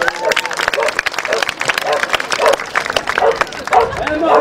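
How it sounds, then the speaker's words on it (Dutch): A crowd at a 2019 knights' day event in Coevorden claps and cheers in steady applause for a knight, with voices and whoops mixed into the noisy, continuous clapping. "Mag ik een fantastisch applaus voor de heer van Utrecht?"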